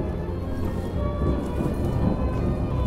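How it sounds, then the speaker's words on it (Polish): A thunderstorm with steady heavy rain in the video game STALKER GAMMA, a dense continuous hiss with low rolling thunder rumbling underneath throughout. "Jakaś burza."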